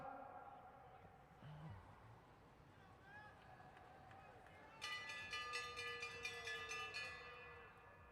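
A rapidly struck bell rings for the final lap of a Madison track cycling race in Detroit, a bright repeated clanging that starts midway through over steady crowd and arena noise.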